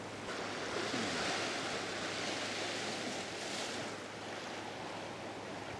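Strong wind and breaking surf against coastal rocks while fishing for pollock, a steady loud broadband roar of waves and gusting wind buffeting the microphone throughout, with no voices.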